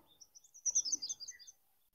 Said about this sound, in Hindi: देखिए कितनी सारी इसमें चिड़िया आई हुई हैं इससे रस चूस रही हैं